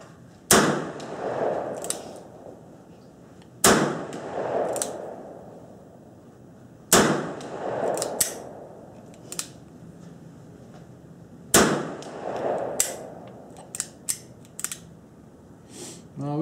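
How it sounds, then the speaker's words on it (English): P-64 pistols fire outdoors: four loud, sharp single shots a few seconds apart, each with a short ringing tail, and softer clicks and clacks of handling in between. "we're going to send some rounds downrange, just for the heck of it, just because we can."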